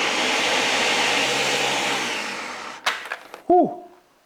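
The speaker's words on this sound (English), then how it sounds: "fill it up with some water and just squeeze in a little bit of dish soap. And now all that's left to do is blend it." A blender filled with water and dish soap whirs steadily for a few seconds, then winds down and stops, followed by a few clicks and a short, swooping whine.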